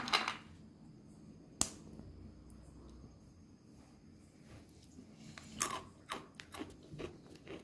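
Several sharp crunches of crispy fried Goan kulkul, eggless and sugarless, being bitten, one loud snap early, then a cluster of crackly bites near the end, no talking.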